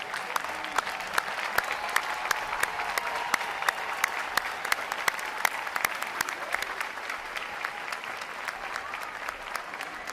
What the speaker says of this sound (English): Would all of our veterans please stand so we can give you a round of applause?